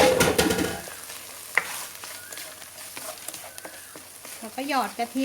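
Chicken curry with eggplant is stir-fried in a pan with curry paste, making a soft, steady sizzle with occasional spatula scrapes. A voice speaks briefly at the start, and faint chirping comes in near the end.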